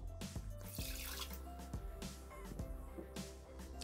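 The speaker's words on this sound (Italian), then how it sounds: "Iniziamo la ricetta mettendo all'interno del boccale l'acqua" Water poured into a Thermomix mixing bowl at the start of a rustic margherita pizza dough, a steady splashing trickle with a faint background hum and no talk.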